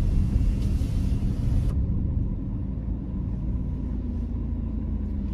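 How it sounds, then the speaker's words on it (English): A car engine idles steadily up close with a constant low rumble and no talk, and a faint high hiss drops away partway through. "just take a listen how good this car sounds"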